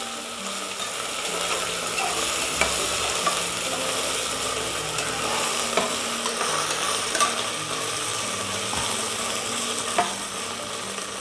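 Ginger garlic paste fries in a pan for egg biryani, a steady sizzle running throughout, punctuated by occasional scraping clicks of a spoon stirring against the metal.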